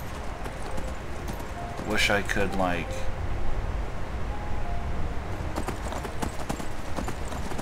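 Horse hooves clip-clop steadily while riding through Skyrim, a close, regular rhythm running beneath a voice as he talks.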